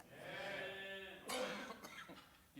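A single rough cough bursts out partway through, after a sustained hoarse, bleating-like vocal sound, close and fairly loud in a quiet indoor setting during a worship sermon.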